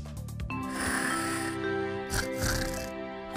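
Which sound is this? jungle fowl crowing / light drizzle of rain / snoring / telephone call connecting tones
snoring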